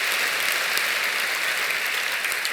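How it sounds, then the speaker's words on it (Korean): A church congregation at a Friday night service applauds continuously, a dense, even wash of many hands clapping throughout. "차량 안내하신 분들을 위해서 박수 드리겠습니다"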